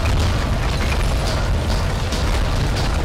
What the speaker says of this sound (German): War das wegen meiner Explosion?